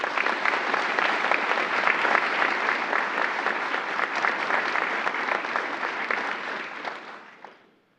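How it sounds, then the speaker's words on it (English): An audience at an Army ROTC commissioning ceremony applauds cadets, with loud, sustained clapping from a full crowd that holds steady for about seven seconds, then tapers off and stops. "Please give a round of applause to cadets Nakina Kilgore, Rebecca Kench, Maggie Leonar"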